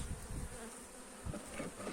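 A dense, steady hum of many honeybees buzzing close by at a hive, a continuous low drone with faint irregular swells.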